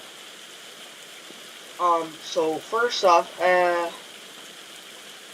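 Rain falls outside as a faint, steady hiss in the background, continuing beneath a short stretch of close talking.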